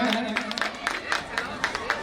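An audience at an honour ceremony gives Babulal Pal a dense round of applause, its steady clapping patter carrying under a busy crowd murmur.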